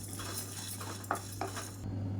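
Sorghum with cashews and almonds dry-roasted in a pan, a spatula scraping and clinking against the metal with a couple of sharper taps, quiet and close, over a faint low hum.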